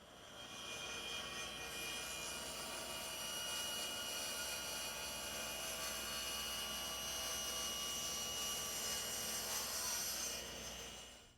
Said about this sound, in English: we slide our stock over and cut an 8-degree angle on the top